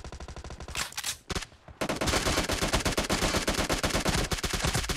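Gunfire in the video game PUBG Mobile during a domination match, rapid automatic bursts that pause briefly and then resume as a dense, loud, continuous volley.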